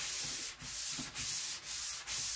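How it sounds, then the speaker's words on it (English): Steady rhythmic sanding strokes on refinished conga drums between finish coats, four to five back-and-forth passes with brief pauses, close and raspy with no talking. "now I can get them sanded and get a third coat on them"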